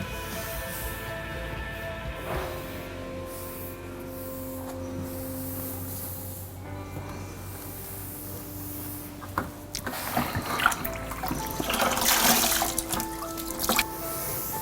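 Water rinsing grout off a repaired floor tile on concrete, soft trickling and dripping that grows into a brief wetter, splashier wash near the end, fairly faint and close.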